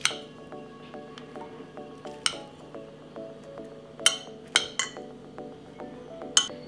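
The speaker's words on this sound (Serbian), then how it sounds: "I salatu ću sipati u činiju za posluženje." Salad being moved into a serving bowl in a home kitchen, heard as quiet scraping and soft squishing broken by sharp clinks of utensils against dishes, several distinct knocks spaced irregularly.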